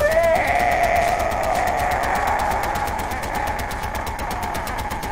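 A mounted machine gun fires in Far Cry 4 as one long rapid stream of evenly spaced shots, steady and close, with a faint whine underneath.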